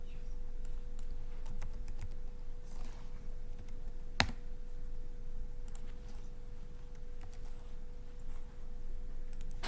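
Light typing on a computer keyboard gives soft, scattered key clicks over a steady hum, with one sharper tap near the middle, close but low in level.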